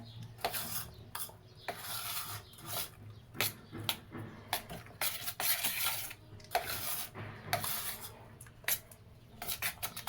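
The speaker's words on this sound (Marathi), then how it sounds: "असं फेटून घ्यायचं" Hung curd being beaten with sugar for shrikhand, a spoon or whisk scraping and rubbing against the bowl in steady repeated strokes, close and clear with no talking.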